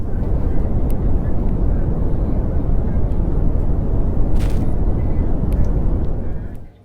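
Dense, roaring wind-like static from a recording of moon radio emissions, a continuous broadband rush with a few brief crackles, loud and steady before fading out at the end.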